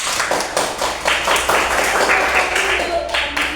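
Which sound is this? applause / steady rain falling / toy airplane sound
applause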